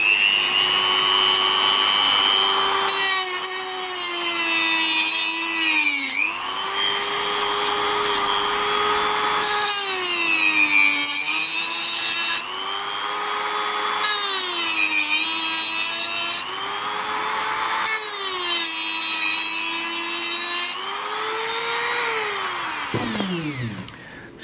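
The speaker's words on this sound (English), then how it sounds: "I use my Dremel with the cutting tool here. And we'll go ahead and turn it on." Dremel rotary tool with a cutting wheel slicing excess material off a camera part during an Agfa Clack pinhole conversion, a loud steady high whine that dips in pitch each time it bites, running continuously and spinning down at the end.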